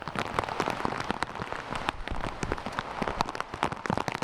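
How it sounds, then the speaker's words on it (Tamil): Heavy rain lashes Puducherry during Cyclone Fengal, a dense, continuous patter of drops hammering hard surfaces, loud and close with no voices. "தற்பொழுது புதுச்சேரியில் பலத்த மழையானது பெய்து வருகிறது"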